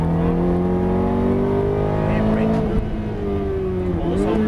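A Ferrari F430 engine pulls hard on a track, its rising harmonic note climbing steadily before briefly dipping around a gear change or lift and building again, loud and close with an instructor talking over it.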